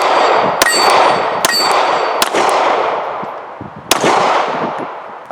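Sig P365 pistol firing outdoors, four sharp shots spaced about a second or more apart, each loud and close with a ringing metallic tail.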